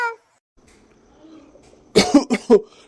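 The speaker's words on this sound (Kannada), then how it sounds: "ನನಗೆ ಕೆಮ್ಮಾಗಿದೆ" A short burst of harsh coughing, three or four quick hacks close to the listener, after a brief voice and near silence.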